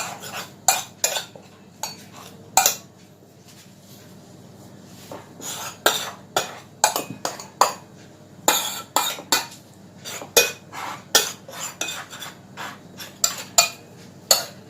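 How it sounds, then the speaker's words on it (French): Knife cutting away excess baklawa pastry on a hard surface, a series of crisp clicking taps and scrapes in irregular clusters, close and clear with quiet gaps between strokes. "Et moi, je vais couper le surplus."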